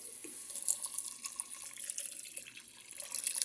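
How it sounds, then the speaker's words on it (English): Water runs and splashes steadily from a tap into a mushroom soup pot, a bright hissing stream with small gurgles, close by, no voices. "we're going to go ahead and add some water right now"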